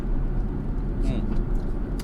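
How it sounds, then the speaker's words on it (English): A London taxi driving on the A40 near Hanger Lane, a steady low road and engine rumble inside the cab, with someone talking over it. "I'm on the A40 near Hanger Lane. So, yes, I am back in the taxi."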